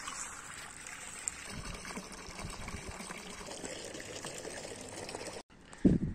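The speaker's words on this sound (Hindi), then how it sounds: "तो इसके अंदर मैं ताज़ा पानी भर देता हूँ।" Fresh water pours steadily into a water container for ducks and farm animals, a continuous close splashing rush that cuts off abruptly, followed by a brief clatter.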